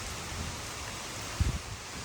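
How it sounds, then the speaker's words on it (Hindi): Heavy rain falls on a Punjab village, a faint, steady wash of noise with a brief low thud partway through. "बारिश तेज़ हो चुकी है"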